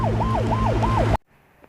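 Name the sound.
ambulance siren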